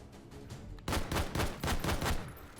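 PSG1 rifle fired in the VR shooting game H3VR, a series of about five loud, close gunshots in steady succession, each with a sharp crack and short echoing tail, after a brief quieter lead-in.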